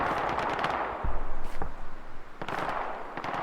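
Machine gun fire in the video game Hell Let Loose, rattling bursts of rapid shots at a middle distance, with several louder volleys and heavier thuds mixed among steady battlefield noise.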